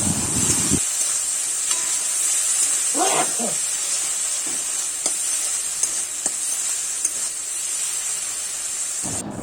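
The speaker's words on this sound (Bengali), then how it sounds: "এবার দিয়ে দেবো ফেটিয়ে রাখা টক দই। এবার কিন্তু বেশিক্ষণ ধরে কষাতে হবে।" Whisked sour yogurt being sautéed into a fish curry masala in a hot pan, a steady hissing sizzle throughout, with scraping stirs and occasional sharp clinks of a utensil against the pan.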